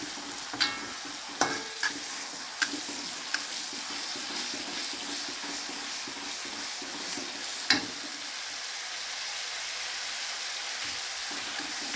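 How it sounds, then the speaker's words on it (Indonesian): Sambal with anchovies and peanuts is stir-fried in a pan, giving a continuous moderate sizzle broken by several sharp spatula clinks and scrapes, loudest near the start, with no one speaking. "Nah, kita oseng-oseng dulu sampai dia masak ya teman-teman."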